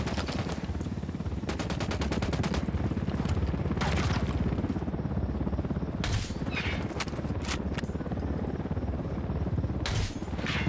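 Gunfire in the video game Ghost Recon Wildlands: rapid, dense bursts of automatic shots crackle almost continuously at high volume, with brief pauses between volleys.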